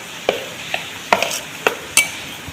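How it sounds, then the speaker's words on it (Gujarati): Dhokla batter for khatta dhokla being stirred in a bowl, giving a handful of separate scraping and clinking strokes at an uneven pace, close and fairly quiet, with no voices. "આ રીતે એકદમ સરસ રીતે હલાવી દઈશું, જેથી કરીને આપણું ખીરું એકદમ સરસ થાય"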